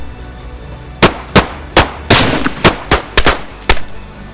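Gunfire in the survival video game DayZ, nine sharp loud shots in an uneven rapid sequence, close and clear, with no speech over them.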